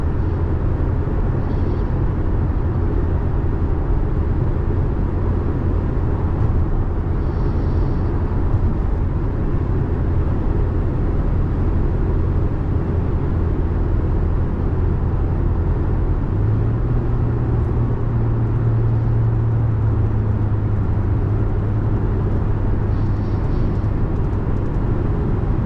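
A 3rd gen Toyota Tacoma cruising uphill on a highway at about 70 mph: a loud, steady cabin drone and road roar throughout, with the engine note rising and holding after a downshift partway through.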